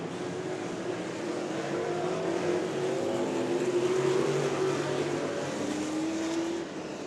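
Outlaw figure 8 race cars run at Evergreen Speedway, their engines a continuous, somewhat distant roar that rises and falls as the cars race past, with no voices.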